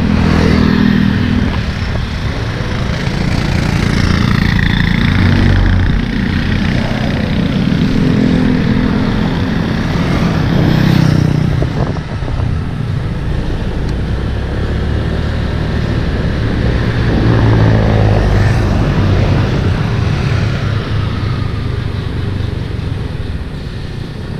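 Motorcycle tricycle engine with a worn, nearly failing chain running steadily nearby for the whole stretch, a continuous loud low rumble with no talk over it.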